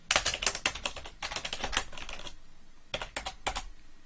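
Rapid clicking keystrokes on a computer keyboard while code is typed, close and crisp in quick bursts with short pauses between runs.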